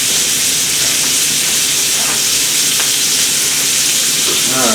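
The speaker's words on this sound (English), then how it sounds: "Love to see that sizzle." Steak fries in a pan with a loud, dense, steady sizzle and hiss close by, holding unbroken throughout with no talk.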